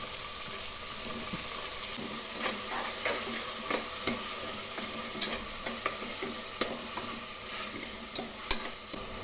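Tomatoes being stirred into a sizzling frying-pan mixture for avarekalu tomato bath, a spoon scraping and clacking in a steady irregular rhythm over continuous close frying hiss, no talking.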